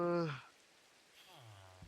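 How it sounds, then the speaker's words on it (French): Steady, faint rain hiss in the Minecraft video game, heard in a quiet stretch between two bursts of a person talking. "Il faut vraiment que ça arrête de pleuvoir, quoi."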